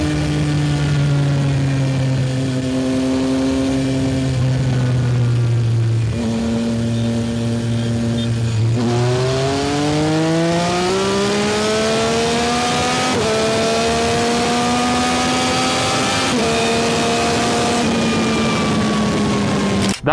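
A modified Yamaha R9 motorcycle engine revs hard through a third-gear run in a drag-style race, climbing steadily in pitch, easing briefly, then rising again, loud and close for the whole stretch.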